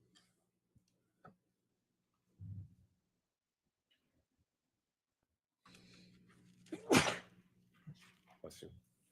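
A single loud sneeze bursts out partway through a quiet room during a livestreamed trial broadcast, followed by a couple of small sounds, with faint scattered noises beforehand.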